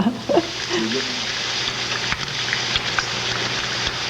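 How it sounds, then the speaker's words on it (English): Steady crackling sizzle of bacon frying in a pan, close and continuous, with a voice speaking briefly near the start. "the smell of fresh bacon frying as Ken Neufer takes his turn in the kitchen"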